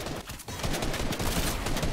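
Rapid gunfire in an arena-mode video game crackles densely and loudly through the whole stretch, steady bursts layered over busy game noise.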